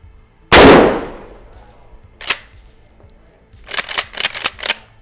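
Mossberg Maverick 88 pump shotgun fired on a range at about 9 meters: a single loud, close blast with a long decaying tail, followed by a short mechanical clack and then a quick series of clicking and rattling handling noises.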